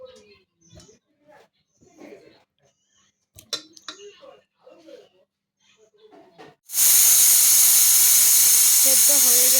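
Jackfruit seeds and potatoes boiling in a pot, a loud steady steam hiss that starts suddenly partway through and holds to the end, with faint bubbling beneath; quiet scattered kitchen sounds come before it.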